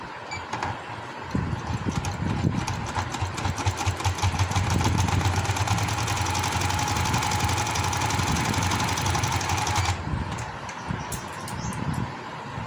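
Home sewing machine running a final seam on palazzo trousers, a steady, rapid mechanical stitching whir with a low motor hum that runs continuously for about eight seconds, then stops abruptly.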